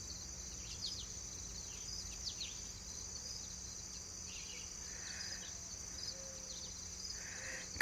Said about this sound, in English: I am hearing the birds this morning.